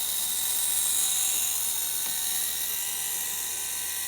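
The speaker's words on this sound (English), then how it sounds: "And there is mast extending" Power antenna mast motor on a 1962 Cadillac extending the mast, a steady high whining drone held at even loudness throughout, close up with no talking.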